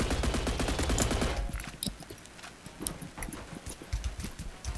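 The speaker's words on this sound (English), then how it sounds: "they can shoot me through walls" Gunfire in the Roblox game Energy Assault, beginning as a loud, rapid stream of shots, then thinning into scattered, sharper single cracks and short bursts.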